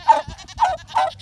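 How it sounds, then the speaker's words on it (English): Boer goats on a family farm bleating three times in quick succession, each call a short nasal wavering cry, close and clear. "Here's our 2 Boer goats, Daisy and Bridget."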